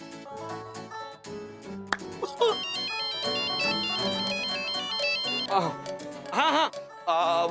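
A phone ringing while someone calls a friend named Raj: a melodic ringtone plays loudly and continuously, with a voice briefly heard over it near the end.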